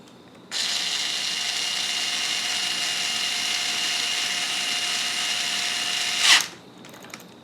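A power drill whirs in one sustained, even burst for about six seconds while driving a screw into the base plate of a ZD Racing Pirates3 RC car, then stops with a brief final rattle, close and alone.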